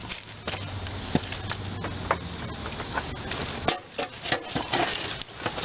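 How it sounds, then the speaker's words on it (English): A socket is hammered down onto a hand mower's front caster, sharp metallic taps landing irregularly, some single and some in quick pairs, close by over light handling noise. "use a socket that hits towards the outer part of it to kind of go around it and hammer it downwards"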